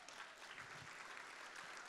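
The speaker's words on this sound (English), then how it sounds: "One more round of applause for all those gifts." Gala audience at an anniversary fundraiser applauds steadily for donated gifts, a dense, even patter of many hands clapping throughout, moderately distant in a large banquet room.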